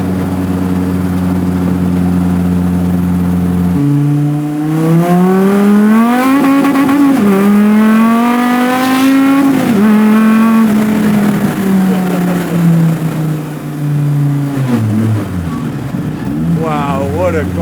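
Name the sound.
Ruffian Cars 800HP 9.0L V10 Plymouth hot rod driving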